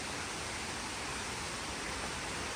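Steady, dense rush of water at a waterfall near Chikmagalur, Kudremukh area, a continuous broadband roar filling the scene with no voices.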